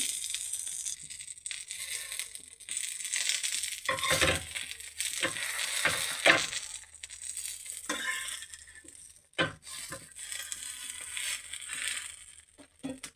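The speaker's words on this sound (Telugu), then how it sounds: "ఇలాగ పెనం మీద పెట్టి ఇలాగ స్లోలోన కాల్చుకుంటాం, స్లో ఫ్లేమ్లోన" Veg burger patty roasting in oil on a flat iron pan over a slow flame, a steady low crackle and sizzle with occasional clinks and scrapes of a spatula.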